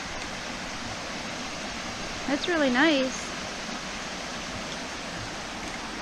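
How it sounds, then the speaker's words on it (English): Small waterfalls along a woodland footpath, a steady close rush of running water throughout, with a person briefly speaking over it partway through. "Look at these little waterfalls."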